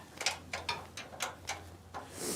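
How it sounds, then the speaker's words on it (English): Ratcheting clicks from screws being tightened on a chain sawmill, in a steady series of about six short bursts, close and fairly quiet with a low hum underneath. "we just tighten the screws again without moving it too much"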